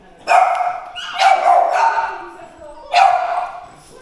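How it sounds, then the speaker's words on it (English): A small French bulldog barks three times, loud and close: two quick barks at the start, then a single sharp one after a short pause. "we have a little dog, but she's a little guard dog"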